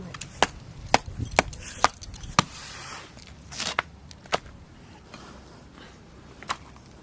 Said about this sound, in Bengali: মাছের মাথাটা ভালো করে কেটে নেব অর্ধেক করে